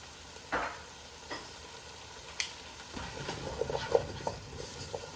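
Chopped vegetables, cumin and tomato bouillon get mixed in a pot for caldo de albóndigas, with a few scattered clinks and scrapes early on, then a denser stretch of soft sizzling, tossing and clatter, close but fairly quiet.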